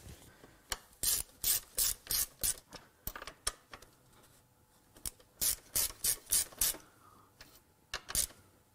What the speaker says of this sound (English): now I can get that tightened down